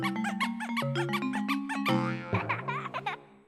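Alternate Nintendo GameCube startup intro triggered by holding Z: a rapid sequence of squeaky, boingy electronic tones that turns into giggly, chattering voice-like sounds, clear and alone.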